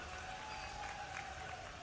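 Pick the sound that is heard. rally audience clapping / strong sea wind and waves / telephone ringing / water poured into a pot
rally audience clapping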